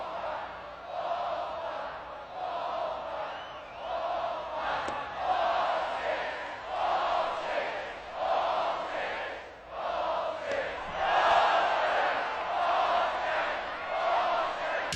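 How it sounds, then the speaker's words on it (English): A Texas A&M college baseball crowd chants in rhythmic, repeated swells, loud and sustained across the stands, each call rising and falling in a steady pulse. "if you walk a guy at Texas A&M, they just start chanting for the next ball"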